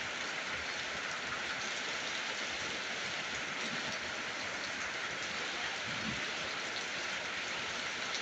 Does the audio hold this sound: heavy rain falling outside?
yes